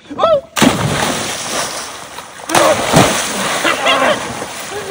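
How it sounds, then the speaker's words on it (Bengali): A person jumps into clear river water in the Sundarbans on a hot day, landing with a loud, broad splash followed by churning water, with people talking and exclaiming throughout. "নাও লাফা বড় জলে"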